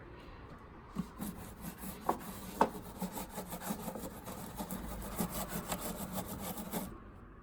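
A 1990s Acura SLX being hand-waxed, a soft rubbing and scrubbing of an applicator across the paint in irregular close strokes, with a few light knocks, quiet throughout.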